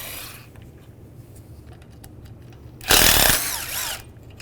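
A T30 Torx socket loosens radiator screws on a 1998-2010 Volkswagen Beetle: quiet workshop background, then one short, loud, harsh mechanical burst lasting about a second before tapering off.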